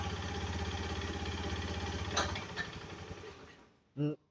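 A motorcycle engine with an electric fuel pump idles steadily, then dies and winds down to silence once the pump's plug is pulled, followed by a brief voice.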